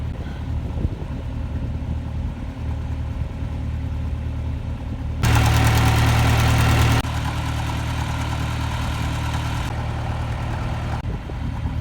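A tractor engine runs steadily close by at a low rumble, its roar swelling sharply for a couple of seconds midway before settling back to a steady drone, with no talk on a cattle farm.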